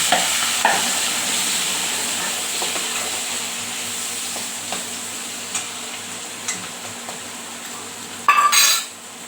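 Green onion frying in hot oil with garlic browned golden and red chili, a continuous close hiss with occasional light utensil taps and a brief louder scrape near the end.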